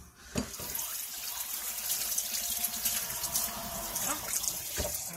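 Water runs from a tap into a kitchen sink to soak dirty dishes, a steady close splashing stream with a few clinks of dishware and brief handling knocks.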